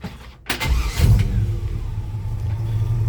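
A 1960s Chevy C10 pickup truck engine, parked with the emergency brake on, catches with a sharp burst, swells into a rev, then settles into a steady, loud low rumble running close by.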